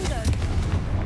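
A Confringo explosive spell goes off in Hogwarts Legacy with a short, heavy boom and rumble. A voice is heard around the blast.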